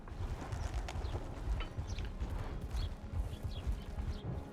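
A horse at the stables in a video game, its hooves clip-clopping in a quick, continuous rhythm over a busy ambient background, moderately close and steady throughout.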